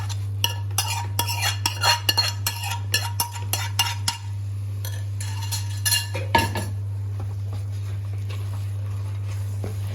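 A spoon scraping and clinking in a pan while fenugreek garlic masala is stirred, with irregular metallic taps over a steady low hum from a stove.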